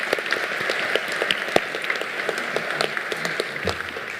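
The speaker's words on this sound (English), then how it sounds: "Let's give the judges in our audience a round of applause." At the 2022 Golden Herald Awards, the audience gives the judges a round of applause: a broad wash of crowd clapping with a few louder nearby claps popping out, steady throughout and free of speech.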